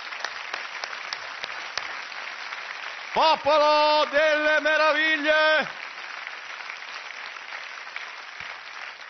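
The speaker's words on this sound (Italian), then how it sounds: "fate un applauso a Toldo e Brachino" Studio audience applause at a TV comedy show, a broad sustained clatter of clapping filling the clip, interrupted midway by a loud sung or musical phrase from the stage before the clapping carries on.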